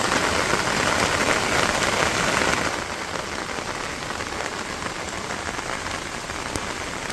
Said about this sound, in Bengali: এখন মনে হয় একটু জোরে নামবো বৃষ্টি